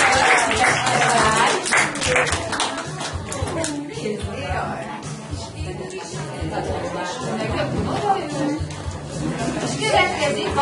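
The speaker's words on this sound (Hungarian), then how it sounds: "Tapsoljuk meg" A group of children applauding at a kindergarten carnival party, a sustained wash of small hands clapping with chatter and voices mixed in throughout.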